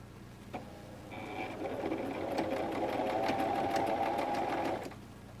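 A sewing machine runs steadily for several seconds while stitching pants fabric, starting after a brief click and stopping abruptly near the end, close and moderately loud.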